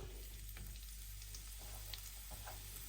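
Chopped onions fry quietly in a pan for a mutton sukka, a soft, low sizzle with a couple of faint stirring scrapes, distant and unaccompanied by speech.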